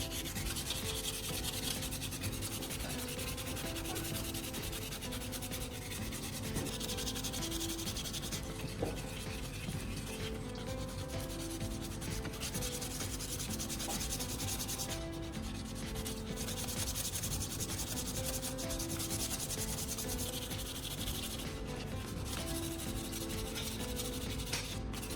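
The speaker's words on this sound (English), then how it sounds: "I meticulously sanded the entire handle by hand. I started with a coarser grit sandpaper to refine the shape." Hand sanding a PVC pipe knife handle with coarse-grit sandpaper, a continuous close scratchy rubbing in steady back-and-forth strokes, heard alone without talking.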